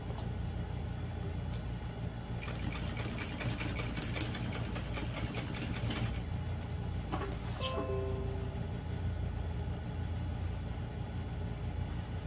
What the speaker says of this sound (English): now I'm just going to sew again directly over the line of stitching